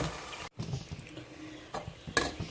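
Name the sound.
stirring and frying achar gosht masala in a pot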